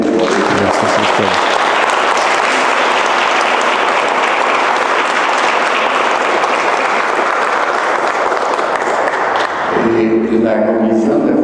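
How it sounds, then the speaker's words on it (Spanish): Audience applauding at the close of a lecture by Father Daniel Sánchez, a steady, dense wash of clapping filling most of the stretch before a voice begins speaking near the end. "un aplauso a Daniel"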